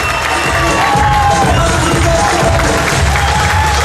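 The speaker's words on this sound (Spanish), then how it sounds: "Así que yo quiero un fuerte aplauso para Arturo, señores." Crowd at a Zumba dance event cheering, whooping and clapping for a dancer, a loud, continuous mix of shouts, children's voices and applause packed close together.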